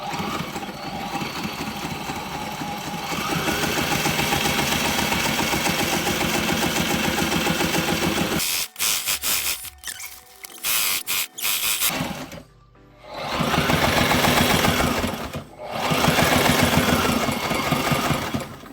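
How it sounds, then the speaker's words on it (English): A sewing machine runs in a steady mechanical whir through two layers of thick 30 mil boat vinyl, then stutters into short bursts and pauses before resuming with a dense, grinding hum. "this sewing machine right now is going through this 30 mil plus the vinyl that's inside, two layers"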